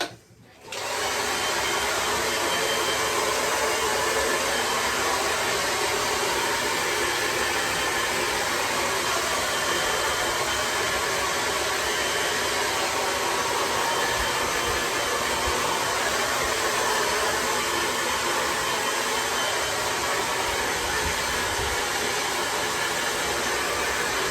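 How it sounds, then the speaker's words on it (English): A hair dryer runs loud and steady for the whole stretch while a man's hair replacement system is dried after leave-in conditioner, starting abruptly and blowing continuously with no talk over it. "So we're just going to dry it off a little bit"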